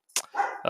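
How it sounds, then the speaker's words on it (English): A dog gives short, close barks in quick succession, loud and abrupt against silence, lasting under a second. "sorry for the dog."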